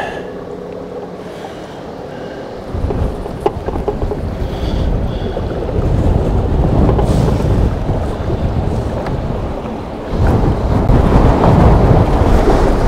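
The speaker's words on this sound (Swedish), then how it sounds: "när jag försöker köra över sjön så orkar inte elmotorn driva båten i motvinden" Small boat pushed by an electric motor into a headwind across a lake, with a continuous rumble of wind buffeting and water splash, growing louder midway.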